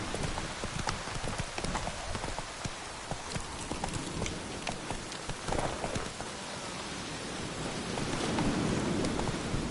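Roach the horse's hooves clip-clop steadily on the ground in The Witcher 3, a continuous trotting rhythm with rain and ambient noise underneath.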